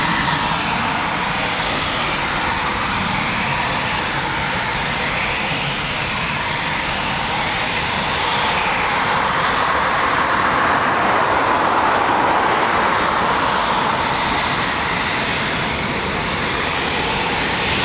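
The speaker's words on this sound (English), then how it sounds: "Typhoon that's just taxied now, this could be potentially a new pilot." Eurofighter Typhoon FGR4 jet taxiing at an RAF station, a loud steady engine roar with a broad rushing hiss that holds constant and swells slightly midway, with no voices.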